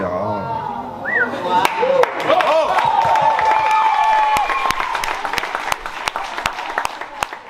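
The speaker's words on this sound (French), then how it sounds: "on peut l'applaudir quand même" An audience at a season-launch gathering applauds steadily, a dense wash of clapping with sharp individual claps standing out, while voices and a few whoops carry over it.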